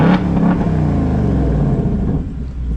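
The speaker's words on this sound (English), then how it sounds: "Now if you want it to rev, you unlock and lock once it calms down" A 2024 Mustang GT convertible's engine revs on its own after a remote start with nobody inside, a loud low rumble that swells and then eases as the revs settle, heard close.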